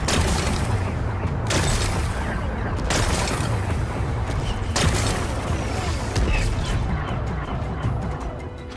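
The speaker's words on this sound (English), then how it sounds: "Gotta blast away some rocks, so I can expose the power cell. It's working! It's exploding." Explosions blast away rocks to expose a power cell in the video game Horizon Forbidden West: a continuous loud rumbling barrage punctuated by several sharp crashing bursts about every one to two seconds.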